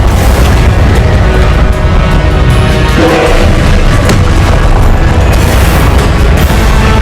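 Loud, dense spell blasts from the Hogwarts Legacy game, Confringo fire bolts booming one after another with no break, a continuous barrage of explosive thuds and crackling bursts filling the whole stretch.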